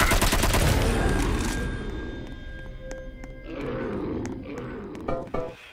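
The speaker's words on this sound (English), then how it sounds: "I'm really digging this submachine gun" A submachine gun fires on zombies in the Roblox game Rise of the Dead: a loud dense burst fades into a roaring wash, then scattered sharp shots punctuate a second swell.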